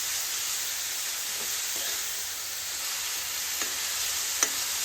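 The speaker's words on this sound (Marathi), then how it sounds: "1-2 मिनिटं चांगलं तेलावरती परतून घ्यायचा आपल्याला हा दोडका" Ridge gourd frying in oil in a pan gives a steady, even sizzle throughout, with a few faint scraping stirs and a small tap near the end.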